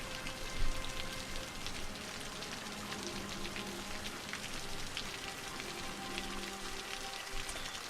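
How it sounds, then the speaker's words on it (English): Steady rain falls across a city in the Cities: Skylines video game, a dense, even hiss of drops that continues without a break throughout. "Of course, it's raining"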